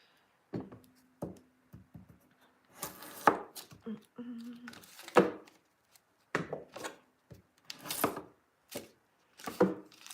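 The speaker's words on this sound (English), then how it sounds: "We'll just cut up this butter." A knife cuts through a block of butter on a board in a kitchen while macarons are being made, giving a series of soft, close chopping taps in short irregular bursts with brief pauses between.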